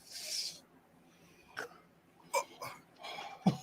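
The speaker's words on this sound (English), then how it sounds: "I got the hiccups now." Hiccups from someone after eating a very hot Paqui One Chip Challenge chip, a few short sharp jolts spaced irregularly, close and fairly quiet, with faint breathing between.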